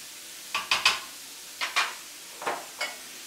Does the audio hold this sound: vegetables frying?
yes